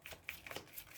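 Tarot cards are set back onto the pile by hand. A quick series of soft, papery slaps and light flicks plays up close and quietly, with no talking.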